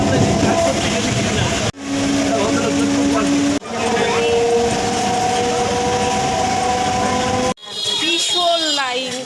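A train pulls into Palpara railway station with a loud, steady rumble and rattling wheels, plus drawn-out tonal squeals and a horn-like tone, while voices and crowd noise mix in close by.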